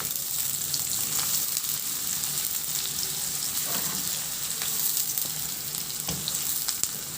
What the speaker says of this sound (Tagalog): Maglagay din ako ng sibuyas. Ganong process lang din, ihalo hanggang sa maluto.